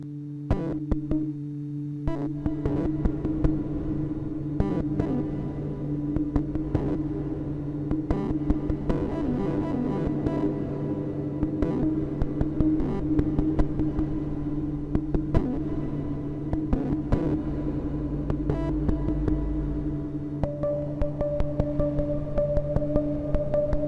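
A Bastl Kastle synth plays throbbing LFO-driven tones through reverb, with steady droning hums under rhythmic clicking pulses that shift in pitch and add a higher tone near the end.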